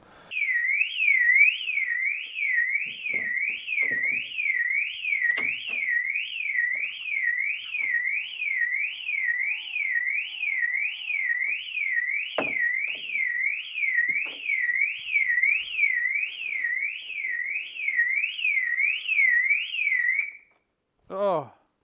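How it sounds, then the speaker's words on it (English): A loud warbling electronic car alarm on a Subaru Impreza WRX STi Type UK whoops continuously at close range, with clanks and tool noises and occasional speech underneath during engine teardown, before cutting off. "This is going to be fun because the alarm keeps going off."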